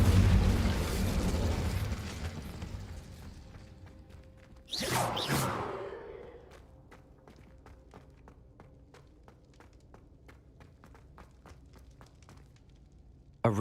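A fire spell cast in Hogwarts Legacy bursts loudly in a short whooshing blast, followed by crackling and scattered ticking as flames burn on, with a rumbling gameplay ambience fading beneath it.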